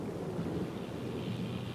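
A low, continuous rumble of thunder blends with steady rain hiss, fairly faint and distant, with no voices.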